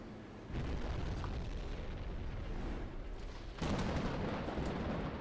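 Deep booming explosions rumble in a WWII submarine game set at sea, fired on a tanker in a convoy, with a heavier blast swelling partway through over continuous low roar.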